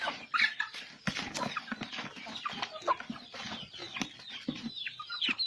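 Free-range organic chickens at feeding time on a farm, clucking busily and close by with scattered wing flaps, a steady chatter of many birds.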